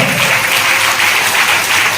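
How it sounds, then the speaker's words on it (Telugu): A church congregation claps together in steady, dense applause during a Sunday service, loud and continuous with no voice over it. "చప్పట్లు కొట్టు దేవుని గలపడతాం."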